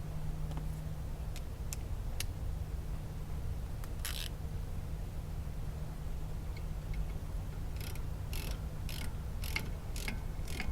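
A ratchet snugging up a 10mm bolt on a disc brake caliper, heard as short bursts of quick metallic clicking clusters late on, fairly clear over a steady low workshop hum.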